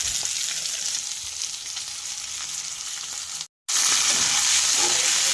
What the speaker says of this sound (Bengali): দিয়ে আলুগুলো ভাজা ভাজা করব, কিন্তু একটা বেশি না, হালকা ভাজা হবে।